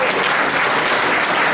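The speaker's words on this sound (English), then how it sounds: "So let's give John a round of applause" At an opening of a seniors' party for a town's 250th celebration, the audience breaks into loud, close applause for an honoured guest, dense clapping that fills the whole short moment.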